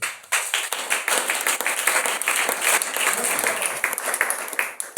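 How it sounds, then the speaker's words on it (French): A church congregation applauds in a dense, lively burst of clapping that stays loud and close for several seconds. "Est-ce qu'on peut acclamer?"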